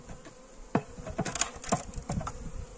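Honeybees hum in an opened hive during the first spring inspection after winter, a soft buzz under scattered sharp clicks and taps from handled frames, close by.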